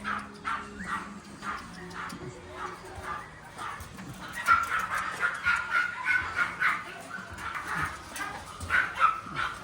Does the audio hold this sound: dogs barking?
yes